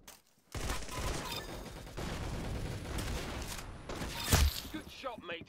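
Concussion rifle fire in a shooter video game gives a dense, continuous roar of blasts and impacts that peaks near the end, with players talking over it.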